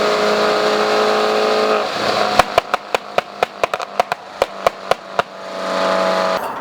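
An NA Mazda Miata runs with a new exhaust: a loud, steady engine drone, then a dip in which a quick series of about a dozen sharp exhaust pops cracks out before the engine note swells back.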